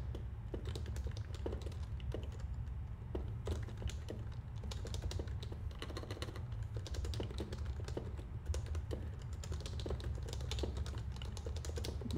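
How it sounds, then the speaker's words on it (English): Close-up typing on a computer keyboard: irregular, rapid key clicks in bursts and short pauses, heard alone over a low, steady hum for about twelve seconds. "I think I'm just gonna shut up and focus on typing"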